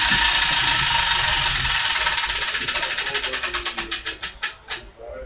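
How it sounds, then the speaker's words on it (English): A spinning prize wheel clicks rapidly against its pointer, loud and close, the ticks spacing out steadily as it slows to a stop. "Let's spin the wheel."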